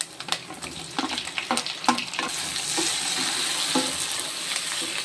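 Tomatoes sautéing in a pan for Tamil egg curry: a sharp spoon scraping and stirring over a busy sizzle at first, then an even, continuous frying hiss, with no talking.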